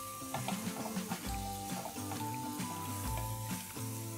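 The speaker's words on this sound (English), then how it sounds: "We need to saute this on a high flame till the onions kind of turn translucent in color." Chopped onions and garlic saute over a high flame for Mumbai street-style pav bhaji, a soft steady sizzle with intermittent stirring scrapes and some tonal background sound.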